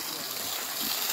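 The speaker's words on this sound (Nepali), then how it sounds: "यति बेला यो पानी पको खोलामा बगिरहेको छ" Water from the Koka stream flows past Dharan with a brief, even rush of noise that holds steady and close for about a second.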